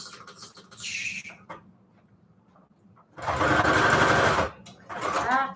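A sewing machine runs a straight stitch through paper tags in a loud, steady whirring burst of about a second and a half, with shorter mechanical sounds before and after.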